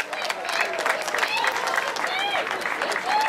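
A crowd at a Tour de Romandie cycling award ceremony applauding steadily with cheers and whistles, while a presenter speaks over the clapping.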